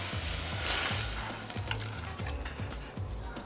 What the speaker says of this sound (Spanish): vamos a incorporar las frutas con el jarabe